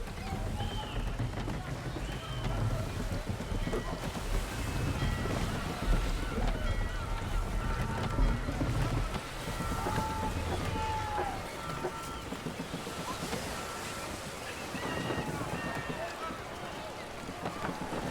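A sailing ship in Assassin's Creed III moves at sea as it slows to half sail, with steady wind, rushing water against the hull and creaking timbers, while voices shout over the noise.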